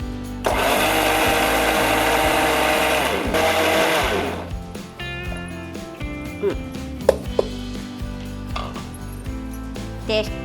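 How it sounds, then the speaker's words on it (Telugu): A mixer grinder grinds cooled dried prawn shells into a spicy powder, a loud, dense whirring burst for about four seconds, then the motor winds down into quieter kitchen clatter and soft knocks. "చల్లగా అయిన రొయ్య పొట్టును మిక్సీలో వేసుకోవాలి."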